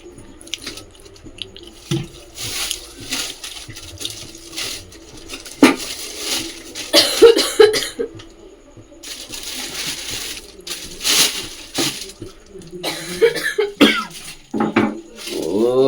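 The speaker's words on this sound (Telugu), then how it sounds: "దగ్గు ఇద్దరికి ఎక్కువ అయిపోయింది బాగా" Several scattered coughs from two people with bad coughs break out amid clinking, splashing water and household clatter, with no clear talk.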